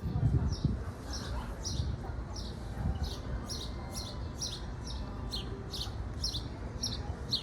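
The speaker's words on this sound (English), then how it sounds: "Hear the birds singing?" Birds chirp in a steady repeating pattern throughout the grounds of the Mission Inn in Riverside, California, their bright calls carried over a constant murmur of background noise.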